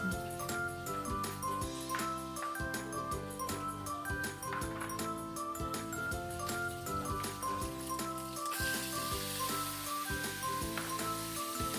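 Dried fish frying in oil while being stirred, steady close sizzling broken by repeated metallic scrapes and clinks of the utensil against the pan.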